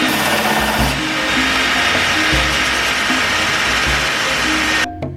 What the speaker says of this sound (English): So I'm going to use this machine. It's called a linisher. It's like a big sanding wheel,